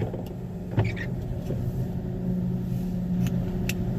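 Steady low rumble of a pickup truck engine running while driving, heard from inside the cab, continuous and moderately loud with a few small clicks and knocks over it.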